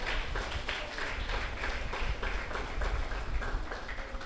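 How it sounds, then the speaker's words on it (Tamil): Congregation at a Tamil Catholic novena Mass at a shrine applauding the villagers who served the shared meal, steady, moderately distant clapping that fills the whole stretch without speech. "நன்றி செலுத்தி கைத்தட்டி அவர்களை போற்றுவோம்"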